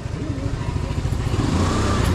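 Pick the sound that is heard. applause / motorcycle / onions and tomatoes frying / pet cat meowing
motorcycle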